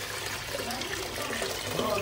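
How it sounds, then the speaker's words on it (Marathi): Water pouring into a pan of chicken korma that has fried oil, fried onion, shahjeera and ground green masala, a steady broadband splashing rush that runs close and even through the whole moment. "हे सगळं फ्राय झाल्यावर पाणी ॲड करायचं ना."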